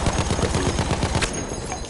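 Rapid, evenly spaced bursts from an LMG machine gun in Battlefield 1, loud and close, running steadily before trailing off near the end.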